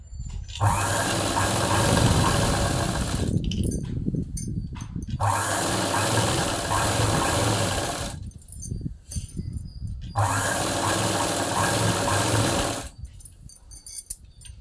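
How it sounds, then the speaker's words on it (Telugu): Sewing machine stitching a fall onto a saree, running in three long bursts of steady mechanical whirring separated by short pauses with small handling clicks, close and fairly loud. "ఇలా స్టిచ్ చేసుకుంటూ శారీని అడ్జస్ట్ చేసుకుంటూ"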